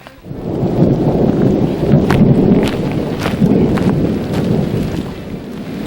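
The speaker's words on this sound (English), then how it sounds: "the rain has progressed to lightning and thunder" A loud, steady roar of heavy rain with low rumbling thunder during an outdoor storm, with wind buffeting the microphone and no voices.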